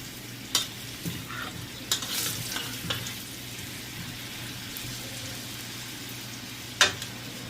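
Adobo chicken wings with potatoes stirred in a pan, a soft steady sizzle of frying oil under scattered scraping clicks of the utensil against the pan, close and fairly quiet.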